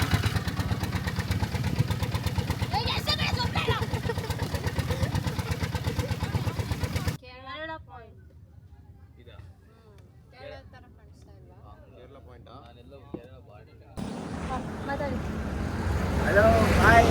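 A boat engine runs steadily and loud for the first seven seconds, drops away under a quieter stretch of voices, then a strong engine drone returns near the end.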